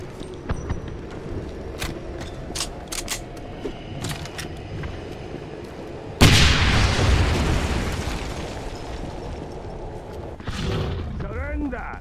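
A grenade goes off in a Wolfenstein church mission, a sudden loud booming blast with a long rumbling decay, after scattered gunfire and voices, followed by further shouting.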